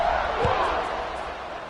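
A stadium crowd in a high school football video game roars steadily through a kickoff, a broad, continuous wash of cheering that sits under a commentator's voice.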